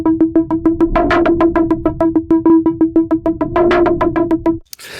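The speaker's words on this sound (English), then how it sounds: "but together with those oscillators, they all sound like this" A pulsing synthesizer pattern with a steady pitched tone and breathy noise layered on each hit, repeating rhythmically for several seconds before cutting off.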